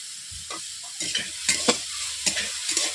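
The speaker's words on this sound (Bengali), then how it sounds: "এইভাবে নেড়ে নিচ্ছি শাকগুলোকে। উপর থেকে একটু হালকা করে তেল ছড়িয়ে দিচ্ছি।" Water spinach stir-fried in oil in a wok gives a run of scraping, sizzling stirring strokes, several sharp bursts spaced about half a second apart over a steady frying hiss, close and with no talk.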